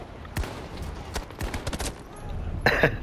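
Gunfire in the Battlefield 2042 video game on the Breakaway and Renewal maps, a ragged series of sharp shots and short bursts over about three seconds, with a louder blast near the end.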